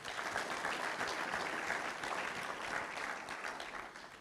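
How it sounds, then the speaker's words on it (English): An audience at a chat event claps in a steady, dense round of applause that fades slightly at the end. "Big round of applause."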